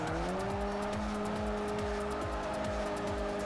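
A Chevy Spark drifting in Forza 4 gives a steady, sustained tire squeal over a droning engine. The sound is moderately loud and continuous through the slide, with no voices.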